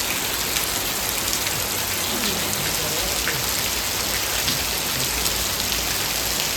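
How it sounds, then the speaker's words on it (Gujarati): Heavy rain pours down in a village, a loud steady roar of drops beating on surfaces nearby, constant and unbroken from start to finish. "કેવો મસ્ત વરસાદ મિત્રો પડે ધોધમાર વરસાદ"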